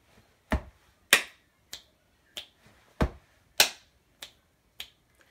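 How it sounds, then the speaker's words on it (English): A single person performs a repeating body-percussion pattern of stomps, claps and finger snaps, about nine crisp, evenly spaced hits in a quiet room, each sharp and distinct with silence between. "See if you can figure out what pattern is repeating as I stomp, clap, and snap."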